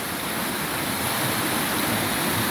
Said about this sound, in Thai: เป็น น้ำไหลจากเทือกเขาพานเป็นน้ำธรรมชาติ ไหลยาวหลายเดือนครับนี่